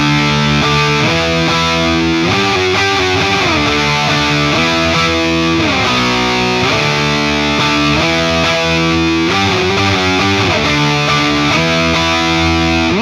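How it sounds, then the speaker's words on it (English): An electric guitar is played through the distorted channel of an STL Tones AmpHub amp simulator, heavy chugging riffs with sliding chords, loud and saturated for the whole stretch with no talking. "you hear how the distortion just like captures it and destroys it"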